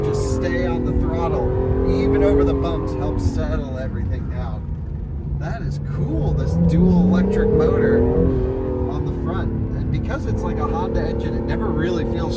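A heavy Acura NSX engine pulls hard at wide open throttle in second gear on a low-speed road, a loud continuous drone that rises and falls in pitch as it revs, with a voice talking over it throughout.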